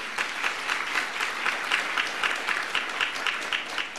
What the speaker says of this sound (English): you're clapping for the wrong person in our marriage